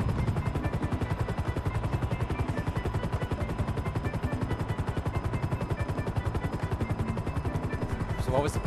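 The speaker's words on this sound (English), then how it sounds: "Chopper sort of damaged." A helicopter in the GTA V video game, its rotor chopping in a fast, even pulse for several seconds, loud and close, with faint game sounds near the end.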